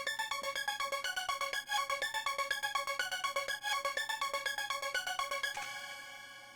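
A synth lead chopped by a Gross Beat saw gate pulses in rapid, even stutters, loud and steady, before the gating stops and the sustained tone fades out at the end.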